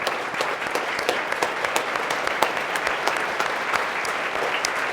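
A keynote audience applauds for NPR Tiny Desk's Bobby Carter at a media ethics institute, a steady dense clapping from a large crowd that holds evenly throughout without speech.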